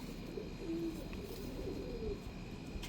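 Soft pigeon coos, faint and low, murmuring over a steady background hum.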